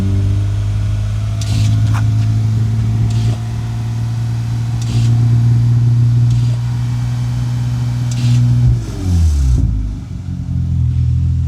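Kia Stinger GT with a DM exhaust and valves shut, accelerating with a steady, deep engine drone that rises in pitch near the end before easing off, loud and close.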